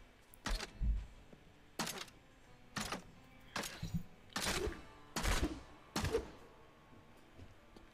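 Crossbow bolts fired rapidly in the Diablo 3 video game, six sharp, punchy shots at a fairly steady rhythm, each a crisp snap with a brief thudding tail, close and clear with no talking.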